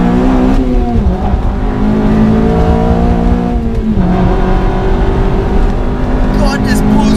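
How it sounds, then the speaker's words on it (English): A Honda Civic Type R FD2 with a 230 horsepower K20 engine accelerates hard in VTEC, a loud, steady rising wail with a gear change partway through, heard from the cabin. "God, this pulls really hard in VTEC."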